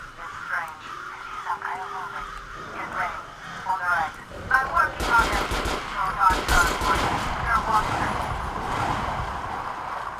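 Gunfire rattles in the video game Metro Last Light Redux, with bursts of rapid shots and sharp single cracks over a game soundscape while someone talks throughout.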